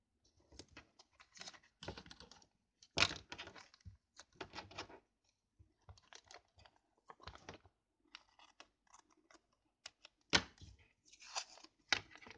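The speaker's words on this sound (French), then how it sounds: "mettre un bout de scotch." Adhesive tape pulled off a roll and pressed onto a fabric-covered box during a sewing project: sharp, close crackling tears and taps in short bursts separated by quiet pauses.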